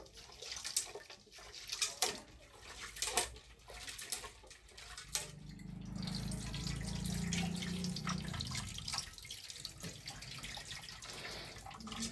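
Soaked tamarind is worked by hand in salted water for a vegetable kuzhambu, giving a steady close sloshing and swishing of water with scattered splashy clicks and drips.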